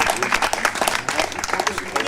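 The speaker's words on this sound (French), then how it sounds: "on peut l'applaudir encore une fois" Continuous dense clapping from a festival crowd in Nantes, a steady wash of applause lasting the whole moment with no pauses, with some voices mixed faintly underneath.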